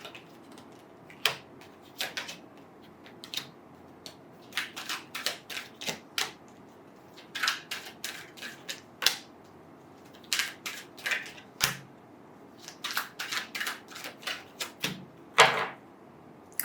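Tarot reading cards are shuffled and laid out in bursts of crisp, close clicks and soft slaps, irregular clusters separated by short pauses, quiet and without talk.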